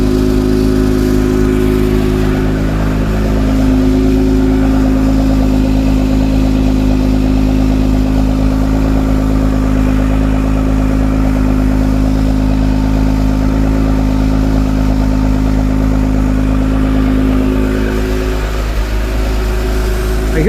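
An Acura NSX NC1 fitted with Science Of Speed downpipes idles in a loud, steady drone, with a faint tinny rattle from the exhaust pipes running underneath throughout.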